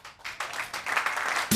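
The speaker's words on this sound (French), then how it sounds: "c'était Kassala, on applaudit bien fort." Audience applause for a comedian at a one-man stand-up show, a dense wash of many hands clapping that builds and holds steady throughout, with a sharper burst right at the end.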